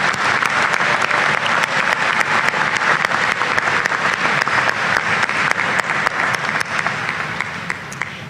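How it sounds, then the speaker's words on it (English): A large commencement crowd applauds master's graduates at a spring college ceremony, sustained dense clapping filling the hall at steady loudness before easing slightly at the end. "Please, let's give our master's students another round of applause in recognition of their accomplishment."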